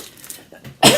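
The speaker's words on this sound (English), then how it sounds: "excuse my cough" A single sharp cough bursts out at the end after a moment of quiet room noise, close and loud.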